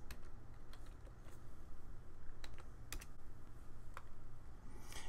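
Keys clack quietly on a computer keyboard in an irregular run of light clicks, heard faintly up close with no voices.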